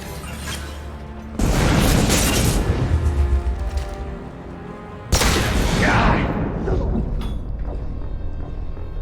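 Flamethrower fire in the video game Mass Effect 2, two loud roaring bursts, each sustained for a few seconds before fading, with game effects around them.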